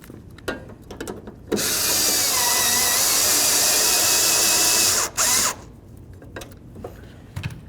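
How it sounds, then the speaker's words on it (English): A power driver snugs up bolts on a 1994-2004 Chevy S-10 fuel door, one sustained whirring burst of about four seconds followed by a short second burst, with quiet handling noises around it. "line up both of your bolt holes and then snug them up."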